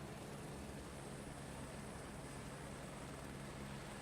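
A steady, droning engine roar from an aircraft taking off in Microsoft Flight Simulator 2024, a constant broadband rumble with no breaks and no voices over it.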